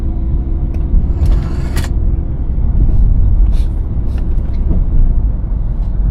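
Van climbing a steep mountain road in drive gear, a steady engine rumble and road noise holding on without a break, with occasional light rattles and a voice speaking over it.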